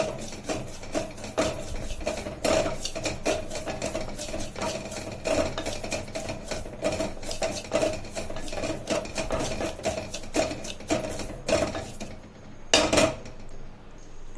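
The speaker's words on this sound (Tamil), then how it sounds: "இப்போ இந்த ரவையை லைட்டாக வறுத்தா போதும் ஃப்ரெண்ட்ஸ்" Semolina being lightly roasted in a pan, with rapid repeated scraping and clinking as a spoon stirs it, close and fairly loud, brief pauses between strokes and no talking.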